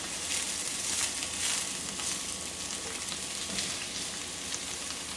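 Vegetables fry in olive oil in a pan with a steady, close sizzle and crackle and a little stirring, loud and continuous with no talking.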